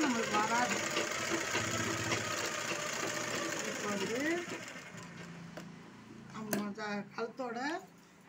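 A sewing machine stitches around the neck of a 40-inch blouse with a pa-style neckline, its steady whirr running beneath a voice before easing off into quieter, intermittent stitching.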